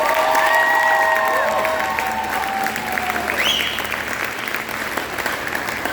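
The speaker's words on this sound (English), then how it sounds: "So I want to give them a round of applause for that." Full audience applause for a high school percussion section and color guard at a spring instrumental concert, dense continuous clapping filling a hall, with a few faint whistles and cheers rising through it.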